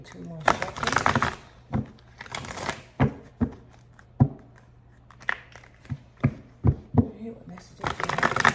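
Tarot cards are shuffled in rapid riffling bursts, crisp and close, with sharp slaps and flicks between runs and a faint low hum underneath.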